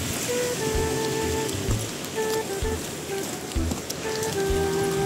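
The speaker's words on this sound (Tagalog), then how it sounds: "kahit umuulan" Rain falls steadily on surfaces during a truck trip to Tacloban City, where many trucks are parked. The close, continuous patter carries a faint tonal hum underneath.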